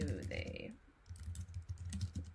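Computer keyboard typing in a steady run of soft clicks at close range, with someone speaking over the first part before the keystrokes continue alone.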